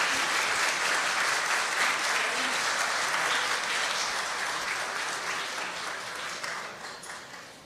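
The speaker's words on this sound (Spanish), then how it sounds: "Recibámoslos con aplausos." An audience at a public ceremony applauds continuously, a dense wash of many hands clapping that holds steady and then gradually fades toward the end.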